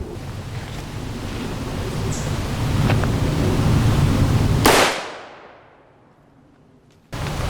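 A .44 Magnum revolver firing a 180 grain Remington UMC bullet into a Level IIIA hybrid armor vest outdoors: one sharp, loud report at close range that decays over about two seconds, with steady outdoor noise before and after.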